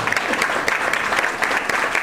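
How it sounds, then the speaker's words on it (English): An audience applauds guest speaker Kevin Gillespie at a talk, a steady, dense wash of clapping that holds at an even level for its full length with no voices over it. "let's give Kevin a big round of applause"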